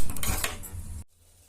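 A metal pot is set down on a stove while cooking makkan peda, an Arcot-style sweet. It gives a loud clattering clank of cookware that rings briefly and then cuts off into near silence.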